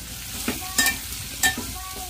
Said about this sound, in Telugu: నూనె బాగా వేడైనప్పుడే పూరి వేస్తే పొంగిది అన్నమాట